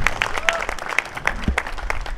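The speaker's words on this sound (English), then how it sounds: "So give them a nice round of applause as they head out on their road trip." Lively applause from a crowd cheering a baseball team heading out on a road trip, with sharp individual claps standing out in an uneven rhythm and a faint whistle-like tone early on.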